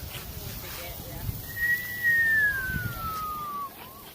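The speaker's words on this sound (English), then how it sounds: "You know that whistle already." A person whistles a single long, gliding tone that slowly falls in pitch, heard outdoors at a beach with light background noise and faint voices.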